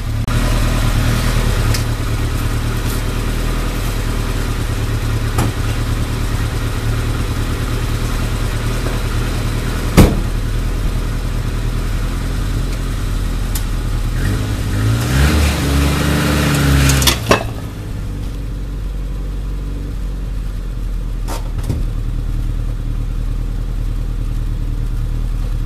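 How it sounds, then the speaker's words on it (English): A vehicle fitted with a Powertrax locker drives off a jack; a steady engine drone runs throughout, with a brief clicking, ratcheting burst from the drivetrain partway through. "You hear that ratcheting mechanism?"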